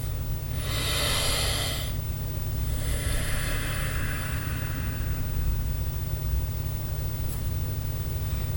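Two long, close, airy breaths during locust pose yoga practice, each a rushing hiss lasting about a second or two, separated by a pause, over a steady low hum.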